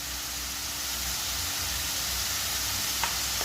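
An onion and green chili mixture fries in a pan while being stirred for mughlai, giving an even, continuous sizzle with a faint scrape near the end.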